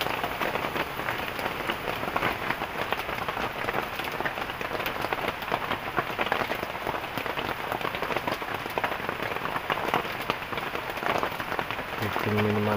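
Steady rain patters on surfaces outdoors at a bushcraft cottage build site, a dense continuous hiss of drops with no clear let-up.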